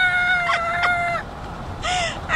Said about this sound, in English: hearing a chicken, a rooster crowing.